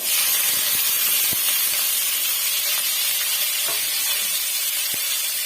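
Onion, curry leaves and green chillies hit a hot pan for cabbage poriyal, giving a loud, close, continuous hissing sizzle with occasional scraping taps of a spoon.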